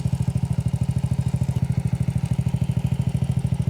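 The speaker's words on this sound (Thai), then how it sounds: "ตอนนี้เครื่องยนต์รอบเดินเบา" A Honda Wave 110 motorcycle engine idles steadily nearby, its low, even exhaust pulses beating in a fast, unbroken rhythm with a light mechanical clatter throughout.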